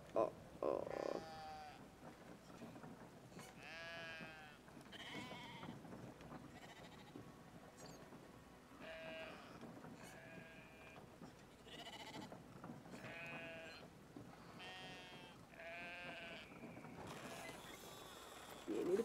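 Sheep bleat again and again in the video game Brothers: A Tale of Two Sons. About a dozen wavering calls come at irregular intervals, fairly faint and close, over a quiet background.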